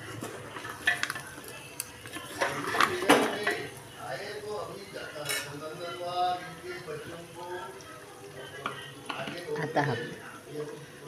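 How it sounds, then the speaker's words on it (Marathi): Spices are stirred through a pan over medium heat, with clinks and scrapes of a utensil against metal and a soft sizzle underneath, while someone talks over it. "आता याला खालवर करून मध्यम आचेवर 15 मिनिटं बघा."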